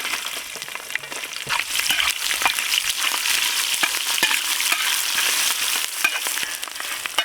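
Chopped onions and curry leaves fry in peanut oil for a river crab sambar, giving a steady, dense crackling sizzle with scattered sharp pops, close and fairly loud throughout, with no talking.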